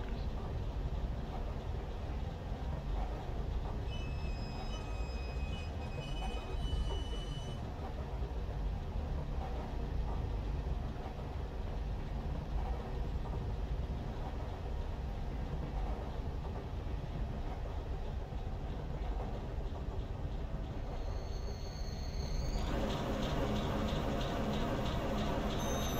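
A train in the Train Simulator 2020 game backs through a rail yard toward a caboose. Steady, continuous rumble and rail noise runs throughout, with faint high squeals or tones midway and a change in texture near the end.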